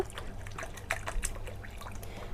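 One cup of water is poured into two cups of flour in a bowl to make dough for Mughlai paratha, giving a faint, brief trickle and splash in a quiet room.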